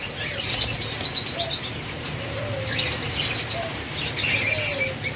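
Ring-necked parakeets in cages at a bird seller's chirp in short bursts, with steady high twittering and bursts of wing flapping close by, a continuous busy bird chatter with no talk.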